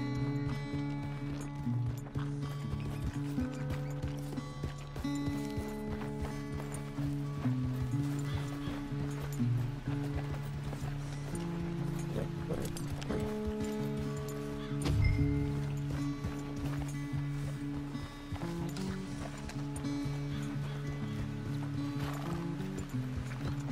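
In the Red Dead Redemption 2 video game, a horse's hooves clip-clop at a fast, steady run with a neigh or whinny partway through, over a continuous layer of game music and ambience.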